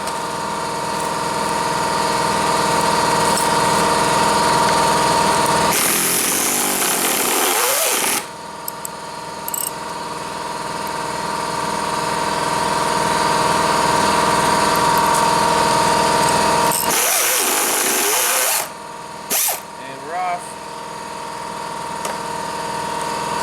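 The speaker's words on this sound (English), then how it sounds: "Sorry about the air compressor." Air compressor running steadily in a garage during rear subframe work on a Ford Contour, Focus or Mystique, a constant motorized drone with a hum, broken twice by louder hissing bursts, no speech over it.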